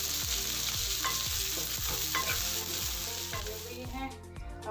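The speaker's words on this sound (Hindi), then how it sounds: "इसमें फ्राई कर लेते हैं हम अपनी सब्ज़ी। इसे हम 2 से 3 मिनट के लिए फ्राई करेंगे।" Chopped vegetables fry in a pan with a loud, continuous sizzle, broken by regular scraping stirs from a spatula at an even rhythm.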